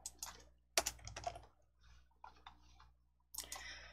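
Keys are pressed on a computer keyboard for the Ctrl+F10 shortcut, making quiet, close clicks in small bursts with short gaps and a louder cluster near the end, alone and without speech.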